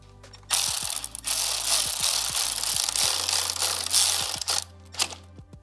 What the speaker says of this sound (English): we're gonna bolt our little bracket back to the frame